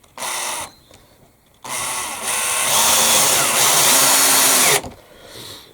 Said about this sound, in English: on the end of the drill there, put it onto a slow speed on 1 and on the screwdriving setting on the screwdriver